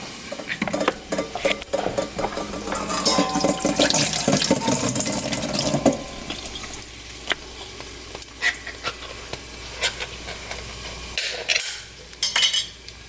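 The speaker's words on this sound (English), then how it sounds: "I'm gonna drain the water off and wash them off." Canned green beans are rinsed under a running kitchen tap, with steady splashing water, metal and utensil clatter, and stirring noises continuing close by throughout.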